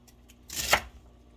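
A sharp knife slicing through beef on a cutting board, one quick soft crunching cut near and quiet, with faint ticks before it.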